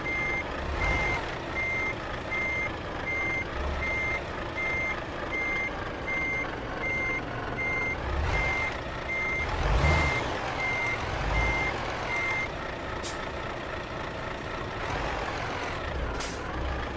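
A truck in Euro Truck Simulator 2 reverses with a steady, evenly spaced electronic beeping over a low idling diesel rumble, with hisses of air brakes and occasional engine swells before the beeps stop.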